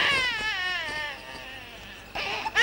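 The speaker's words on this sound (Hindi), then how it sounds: "जल्दी करो, बच्चा बहुत रो रहा है।" A hungry infant cries loudly in long wailing bursts, fading into a whimper and then rising again near the end, with no words spoken.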